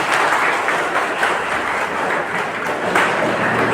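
Loud, dense applause from an audience at a Tamil public event marking TANGEDCO electricity week in Gudalur, sustained and even throughout, with no voices over it.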